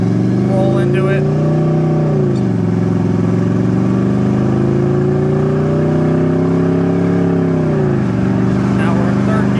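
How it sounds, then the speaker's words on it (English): A 1984 Oldsmobile Hurst engine drones loudly and steadily, its pitch dropping sharply as it downshifts through the gears and revving between shifts, with a person talking over it. "it is fun to just downshift and bang through the gears a little bit"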